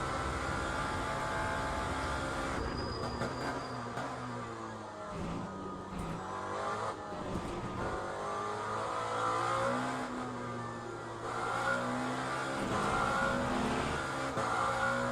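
Lamborghini race car engine in the racing game Le Mans Ultimate, revving and shifting through gears at sustained high pitch, a steady loud drone with rising and falling tones throughout.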